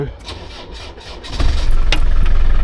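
The 300 TDI diesel engine of a Land Rover Discovery cranks briefly, then catches and settles into a steady, loud idle rumble close by.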